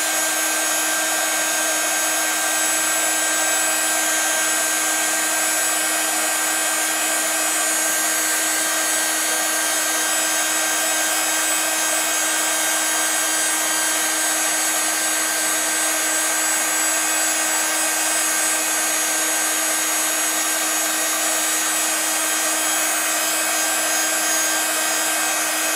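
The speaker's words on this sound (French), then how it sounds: "Je prends mon pistolet. Et je le fais chauffer un petit peu avant pour qu'il soit bien chaud." An embossing heat gun, preheated and then aimed at embossing powder on a handmade card, gives a steady, loud hiss of blown hot air with a constant motor hum, unbroken for the whole stretch and free of voices.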